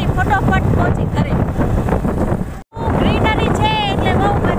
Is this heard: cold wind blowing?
yes